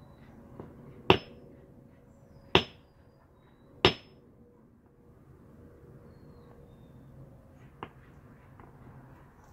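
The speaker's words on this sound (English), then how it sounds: "My dad's cracking a geode." Hammer striking a geode to crack it, three sharp close strikes about a second and a half apart, then a fainter fourth tap after a pause, over a quiet room.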